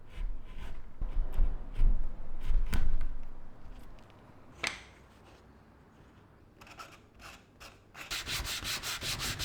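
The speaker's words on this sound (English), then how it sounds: "So it was back to the chisels to carve out the groove." Wood chisel carving a groove into a wooden housing, heard as rough close scraping and rubbing strokes with a few sharp knocks, then a faint pause and a burst of rapid, gritty shaving at the end.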